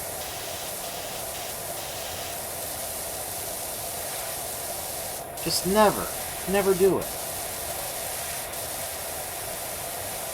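A pressure washer in the Power Wash Simulator video game sprays a grimy playground with a steady, even hiss that runs the whole time, while someone speaks briefly partway through.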